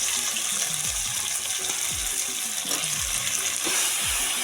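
Eggplant pieces drop into a hot pan with a little water while preparing a tangy Chhattisgarhi curry. There is a steady, soft sizzle with repeated stirring scrapes roughly once a second.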